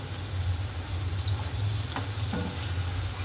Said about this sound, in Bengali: আস্তে আস্তেই আলুটা ভাজছি।